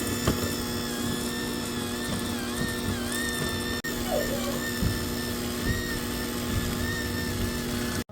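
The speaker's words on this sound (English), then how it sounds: "We're gonna use electric mixer and beat it or cream it." Electric hand mixer creaming brown sugar and butter for triple chocolate walnut cookies, a steady whirring motor hum running nearly continuously at close range, with a brief dip partway through and no talking.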